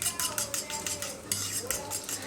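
Spoon scraping and clinking against a bowl while cocoa banana muffin batter is stirred by hand, a quick repeated rhythm of soft taps and swishes, close and fairly quiet with no talking.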